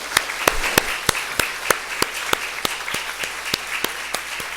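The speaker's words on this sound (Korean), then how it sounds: "우리 이 교사님들에게, 선생님들에게 선생님 감사해요, 사랑합니다 하면서 우리 박수 한번 쳐드리십시다" A church congregation applauds its Sunday school teachers, a sustained crowd of many hands clapping with a few sharper individual claps standing out, filling the hall steadily throughout.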